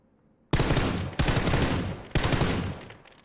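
Three long bursts of automatic gunfire from PUBG follow a quiet start, each a loud, dense stream of rapid shots cut off by a brief break before the next begins.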